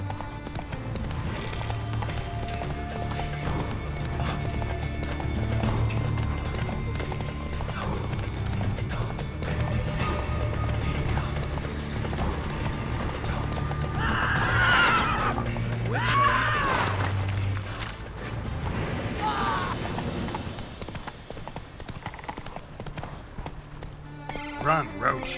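Roach, the horse in The Witcher 3, gallops with rapid, steady hoofbeats under game music, and loud whinnies break out in the middle; someone talks over parts of it.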